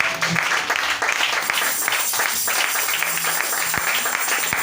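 A church congregation applauding together during a lively worship service, a steady, dense wash of clapping hands that continues without a break for several seconds at close range.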